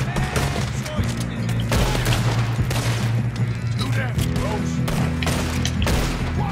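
Lever-action rifle shots and other gunfire crack steadily through a Red Dead Redemption II gunfight, loud and continuous, with a low hum and voices under the shooting.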